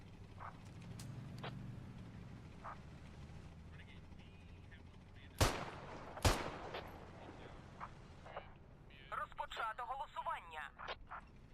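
Two sharp rifle shots ring out close together in the tactical shooter Squad, standing out over a low ambient bed with faint distant crackles, followed by scattered lighter gunfire and radio-like chatter noise.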